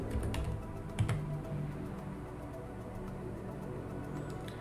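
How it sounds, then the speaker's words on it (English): Keystrokes on a computer keyboard entering commands on an Ubuntu Linux system, a steady run of soft clicks over a low background hum, with one slightly louder tap near the start. "in a Ubuntu Linux system, we type the following commands"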